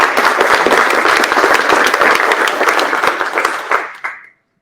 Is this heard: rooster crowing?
no